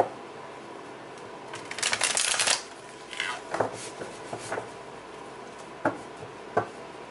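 Tarot cards riffle and shuffle in a quick papery burst, followed by softer taps and a few sharp card slaps spaced apart, close and alone without talk.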